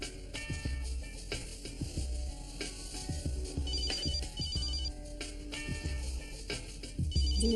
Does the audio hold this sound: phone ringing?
yes